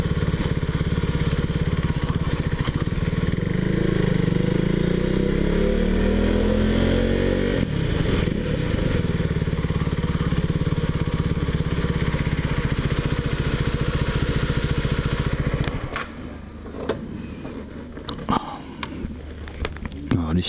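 A KTM Duke 390 with its stock exhaust accelerates, engine pitch climbing through a rising rev before easing off, loud and close, with some wind and clatter toward the end.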